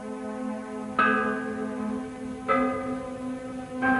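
Ancient cast bell built to sound two notes, struck three times, each strike a bright ringing tone with layered overtones that decays slowly into the next.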